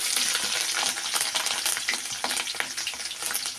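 Garlic, ginger and kanthari chili sizzling in a pan for Kerala-style sardine pickle, a dense crackling hiss with bursts of popping and stirring, fairly soft and steady throughout.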